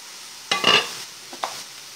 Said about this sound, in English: While the mushrooms are frying in here